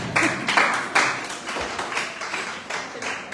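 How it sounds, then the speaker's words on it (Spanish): A church congregation applauds during a sermon, steady rhythmic clapping at moderate level, fairly close and sustained for a few seconds. "les den un aplauso"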